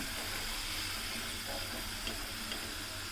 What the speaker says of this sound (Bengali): এবার উল্টে পাল্টে আলুর স্লাইসগুলোকে ব্রাউন মতো ভেজে নেবেন